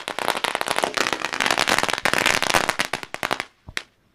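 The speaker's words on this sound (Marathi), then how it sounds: "फटाक्यांची आतिषबाजी" Firecrackers crackle and pop in a dense, rapid volley at a cricket tournament celebration in Karnala, loud and continuous for about three seconds before thinning into a few scattered bangs and quiet.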